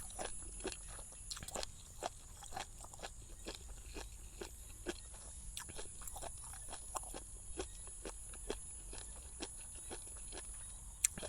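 Spicy Thai jellyfish salad being chewed up close: a steady run of sharp, crisp crunches in an uneven rhythm, fairly faint over a quiet background with no talking.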